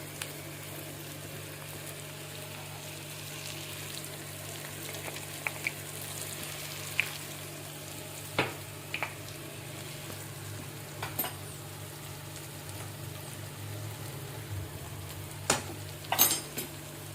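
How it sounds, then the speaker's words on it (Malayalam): Onions and vegetables sauté in hot oil with turmeric for rava kichadi, a steady soft sizzle throughout, punctuated by occasional light clicks and scrapes of a stirring utensil against the pan. "ചെറുതായിട്ട് മഞ്ഞൾപ്പൊടി അതൊന്ന് വഴണ്ടുമ്പോൾ"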